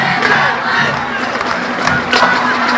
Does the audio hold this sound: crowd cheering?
yes